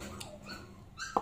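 Puppies whimpering with a few short yips and a sharper bark near the end, quiet and somewhat distant indoors, brief overlapping high cries over low background noise.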